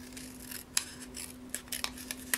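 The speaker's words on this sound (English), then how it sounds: "I used my long orange-handled Fiskars scissors" Long orange-handled Fiskars scissors trim cardstock tag edges, giving several quiet, close crisp snips and sliding blade rasps in an otherwise hushed room.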